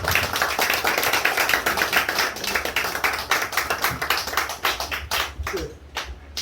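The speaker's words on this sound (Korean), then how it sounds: "박수 좀 쳐주시기 바랍니다." Congregation at a Korean church pastor ordination ceremony claps steadily in a dense, sustained round of applause, fairly close and even, tapering off near the end.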